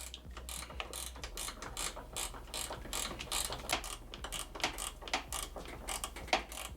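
A ratcheting wrench removes 8mm bolts on a Nissan 300ZX. Rapid close clicking comes in quick bursts of back-and-forth strokes, with no talking.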